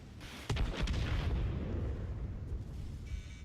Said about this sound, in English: you can see the effects there of the artillery from other tanks